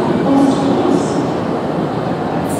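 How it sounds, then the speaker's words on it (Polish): Trains at a station in Berlin, with a steady, loud rumble of rail cars and wheel noise through the whole stretch, a few brief squeals above it, and no talk. "To jest dworzec w Berlinie."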